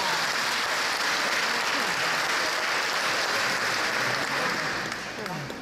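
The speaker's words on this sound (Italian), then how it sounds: "Applauso." A church congregation at the arrival of Saint Anthony of Padua's relics in Casandrino breaks into sustained applause, a dense, even wash of many hands clapping that holds steady and tapers slightly at the end.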